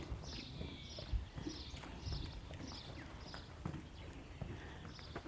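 Horse with plenty of energy stepping slowly over ground poles, hooves clip-clopping in a regular, unhurried rhythm on the ground, moderately close and fairly quiet.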